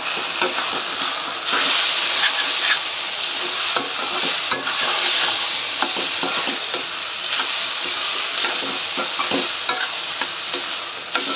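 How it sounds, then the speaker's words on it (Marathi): Onion and tomato sauté with turmeric, red chili and coriander powder in a pan for bhurji, a continuous close sizzle with frequent spatula scrapes and stirring knocks throughout. "आता हा कांदा टोमॅटो अजून जरा वेळ झाकण ठेवून चांगला परतून घ्या"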